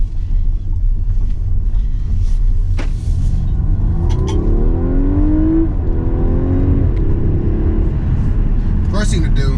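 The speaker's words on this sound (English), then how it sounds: "First thing to do, always got to smash the throttle on this thing." 2019 Audi A5 Sportback with a four-cylinder turbo accelerating hard at full throttle, a loud rising engine drone with climbing pitch heard from inside the car, someone talking over it throughout.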